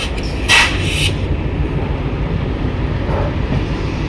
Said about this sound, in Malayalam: അവിടെ കൃഷ്ണരാജപുരത്തിൻ്റെ ഒരു ആൽക്കോ ലോക്കോമോട്ടീവ്